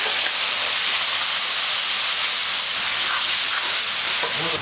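Tomatoes sautéing in a pan for a kuzhambu, giving a steady, close sizzling hiss that runs without a break and has no talk over it.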